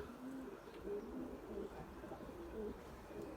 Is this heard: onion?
no